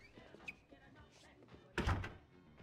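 A door in Grand Theft Auto IV bangs open with a single heavy thump near the end, following quieter shuffling and faint talk.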